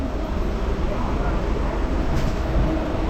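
Inside a moving diesel DEMU passenger train, a loud continuous rumble and rattling roar fills the cabin, steady and broadband with no distinct breaks.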